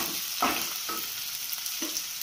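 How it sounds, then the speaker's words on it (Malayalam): Onions fry in hot oil for Palakkad beef biryani under a steady, close sizzle, with three distinct scraping stirs spaced through the clip. "നമുക്കതിലേക്ക് ഉള്ളി ആഡ് ചെയ്ത് കൊടുക്കാം"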